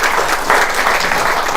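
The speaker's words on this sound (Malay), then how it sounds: "Sekali lagi tepukan untuk Haji Jamaluddin Hajah Kamariah." Sustained audience applause at a product therapy testimonial gathering, a dense steady wash of many hands clapping together, loud and continuous without pauses.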